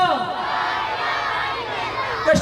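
A rally crowd of children and elders chants slogan responses in unison while waving flags, a loud sustained mass of voices filling the whole stretch, with a brief sharper shout near the end.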